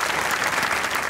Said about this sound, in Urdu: آپ کی تالیوں میں استقبال کیجیے گا